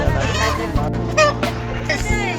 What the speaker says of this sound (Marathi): हे आम्ही आलो आता इथे कोंबडे घ्यायला